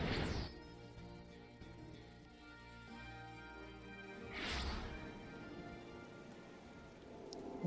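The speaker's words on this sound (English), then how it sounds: "Why is it always raining?" Steady rain falls in a Final Fantasy XIV Stormblood scene in the Drowned City of Skalla, a constant wash of patter with a couple of brief heavy smashing bursts near the start and midway.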